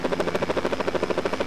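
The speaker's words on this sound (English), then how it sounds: "I gotta get this helicopter pointed at the ground or we'll never keep up." Helicopter in flight with a steady, rapid rotor chop pulsing evenly throughout, loud and close, with no talk over it.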